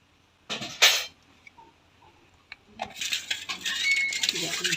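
A metal wok set down on a clay stove gives a sharp clank and rattle early on, followed by quieter clinks and a rising background of cooking activity, with a voice faintly present.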